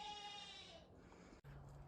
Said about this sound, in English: she's not so sure about being in here while she hears the other goats